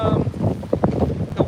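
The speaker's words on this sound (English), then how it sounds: "it is still windy" Wind gusts buffet the microphone outdoors beside a covered fish pond in Florida winter weather, a continuous low rumbling roar with a few sharper bursts.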